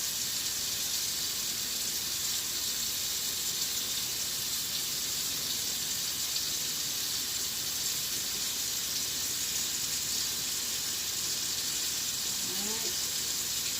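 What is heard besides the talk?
rinsing hands under running tap water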